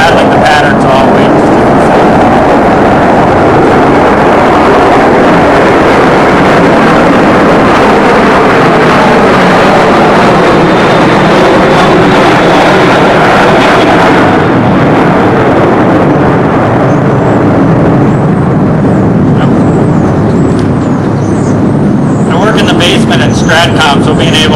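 Aircraft engine drones loud and steady at close range, a dense broadband roar that holds for the whole stretch with a slight shift partway through.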